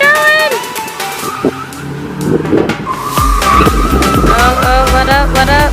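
A car fitted with an angle kit drifting, its tires skidding and squealing loudly while the engine revs rise and fall, close by and continuous with a voice talking over it.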